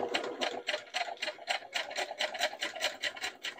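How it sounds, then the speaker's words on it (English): A sewing machine zigzag stitching stretch knit fabric for a scarf, running in a steady, fast rhythmic chatter of even mechanical ticks, close and fairly quiet, with no voices. "Back to the machine. Same zigzag stitch."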